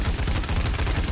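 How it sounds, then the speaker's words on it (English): Rapid-fire gun shooting in the video game Paladins, a dense unbroken burst of fast repeating shots, loud and close over the whole stretch. "I got a gun that shoots really fast."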